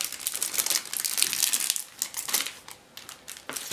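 A sealed plastic bag holding a transparent sprue from a 1/35 scale Takom Luchs model kit is handled and cut open, giving close, continuous crinkling and rustling with short crisp bursts and brief pauses, no speech.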